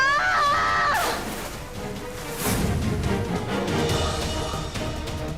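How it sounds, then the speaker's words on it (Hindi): A loud, piercing scream rises in pitch and cuts off after a second, followed by dense, noisy commotion that continues to the end. "चिल्लाने की आवाज किसकी थी?"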